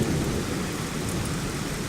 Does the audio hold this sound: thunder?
yes